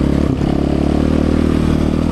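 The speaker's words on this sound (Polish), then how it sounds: "Kład to normalnie idzie." A quad bike (ATV) rides over sand and gravel, its engine droning loud and steady up close with a constant rumble and rattle.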